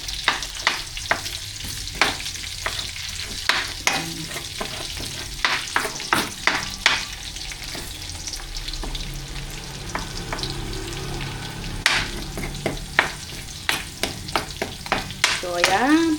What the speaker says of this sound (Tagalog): Papulihin lang po natin ng konti itong bawang